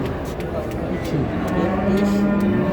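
Calves mooing at a Çorum cattle market, several drawn-out low moos close by amid crowd noise and background talk.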